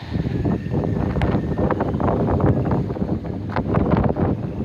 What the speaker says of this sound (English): All the wind's coming behind us and it's sucking it